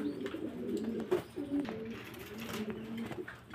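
Lotan pigeons cooing close by, a series of soft, rolling low coos repeating throughout, fairly quiet with faint background noise.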